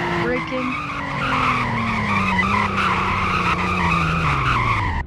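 A car in the Roblox game Greenville braking hard from high speed, tires squealing in a long skid as the engine tone slowly drops, loud and continuous for several seconds.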